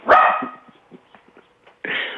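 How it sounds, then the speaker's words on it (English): A single loud dog bark up close, followed by quieter rustling, then a second bark starting right at the end. "what kind of dog do you think that is? A loud one"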